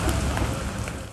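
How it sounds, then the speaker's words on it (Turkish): Heavy rain pours steadily during a storm in Istanbul, a dense continuous hiss of water striking streets and surfaces, loud and close with no voices. "İstanbul'da şiddetli yağış sabah saatlerinden itibaren etkisini göstermeye başladı."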